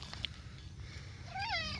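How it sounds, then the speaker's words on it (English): A pet cat purrs softly in a quiet room, a low continuous rumble, then gives one short, rising meow near the end. "You're purring."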